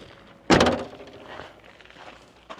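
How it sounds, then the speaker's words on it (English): A car door shuts with a single solid thunk, followed by faint shuffling and a small click near the end, in an otherwise quiet outdoor setting. "pause for door closing"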